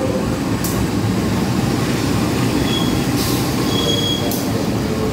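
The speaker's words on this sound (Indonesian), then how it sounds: "Sedangkan di sini ada lokomotif juga nih." A locomotive-hauled passenger train passes on an Indonesian railway near Jakarta, a loud, continuous rumble of wheels on rails with a few brief high squeals, heard close with no talking.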